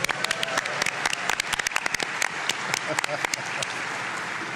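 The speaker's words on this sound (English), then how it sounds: "Round of applause for my son, Ben." Applause from a small group at a Civilization VII developer panel at PAX West, with scattered sharp claps over a steady wash of clapping, moderately loud and lasting throughout.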